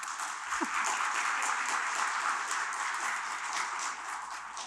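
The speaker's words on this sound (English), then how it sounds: "Can we clap for them?" A church congregation at a Mennonite fellowship service gives steady, even applause, a dense wash of many hands clapping in a hall that fills the whole stretch at moderate volume.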